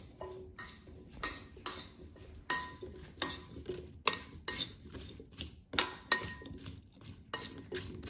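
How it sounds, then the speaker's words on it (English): Potato pieces being tossed with oil and seasonings in a bowl give a series of sharp, close clinks and knocks, roughly a dozen irregular hits spread over several seconds with quiet gaps between them. "I'm going to toss them so they're coated with oil and seasonings."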